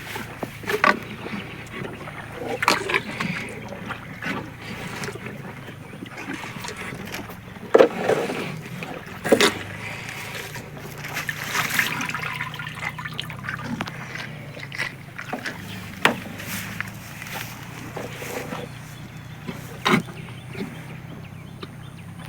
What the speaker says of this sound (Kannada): ದನಗಳಿಗೆ ನೀರು ಕುಡಿಸ್ತಾ ಇದ್ದೀನಿ ಗಾಯ್ಸ್.